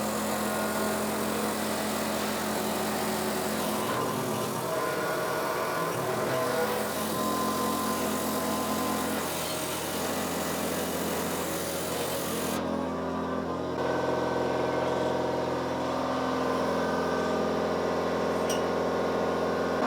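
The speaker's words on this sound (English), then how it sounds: "Compressor's just kicked in." An air compressor feeding a motorcycle lift table runs as a loud, steady mechanical drone with a constant hum, its tone shifting abruptly partway through as the load changes, with no talking over it.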